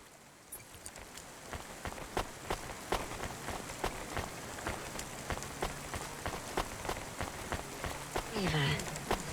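Steady rain falls in the video game Cloudpunk, a dense continuous patter with sharp drop and tap sounds scattered throughout, fairly close and with no voices.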